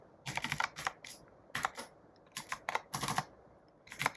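Keys clatter on a computer keyboard in short irregular bursts of quick taps with brief pauses between, close and fairly quiet with no talking.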